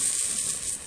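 Coconut cooking over a fire to render homemade coconut oil, heard as a continuous close, bright sizzling hiss with no talking.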